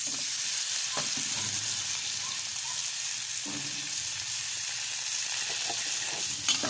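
Tomatoes sizzling and being stirred in a frying pan, a steady close hiss of frying with occasional soft scrapes of the spoon, no voices.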